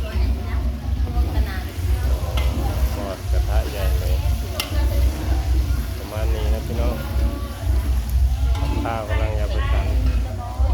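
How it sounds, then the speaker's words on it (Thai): Pork frying in a pan while food is prepared for monks' midday meal, with a steady loud sizzle throughout and people talking over it. "กำลังทอดหมูเลย"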